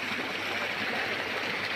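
A mountain stream flows steadily in Kakopetria on a sunny day, a continuous, fairly loud rushing and hissing of water with no breaks and no voices.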